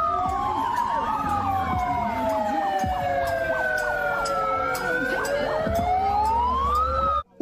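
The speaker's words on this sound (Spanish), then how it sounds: "ruidos de sirenas" Several wailing sirens sweep up and down at once, loud and close, overlapping continuously until they cut off abruptly.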